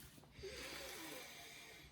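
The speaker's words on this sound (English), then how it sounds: "Let's give it a sniff test." A single close, quiet sniff of a new leather Bible cover, the RL Allan first-edition petrol NASB reader, drawn in as one brief, airy inhalation.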